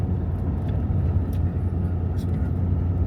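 A car travels along the Alaska Highway through mountainous country at about 60 km/h, with a steady low road and engine rumble running under a voice talking.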